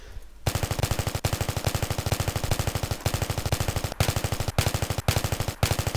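Rapid automatic gunfire from Battlefield 3, a loud, fast, evenly spaced stream of shots lasting several seconds with brief breaks between bursts, no voice.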